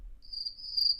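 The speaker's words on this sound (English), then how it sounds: "You should get rid of the crickets." A cricket chirping sound effect from a soundboard plays as one steady, thin, high trill lasting about a second, clear against near silence.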